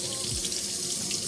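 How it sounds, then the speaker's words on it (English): Running water pours steadily from a faucet as a galaxy-dyed disc is rinsed underneath, a close, constant hissing splash with no voices. "why don't we just get to rinsing this disc off?"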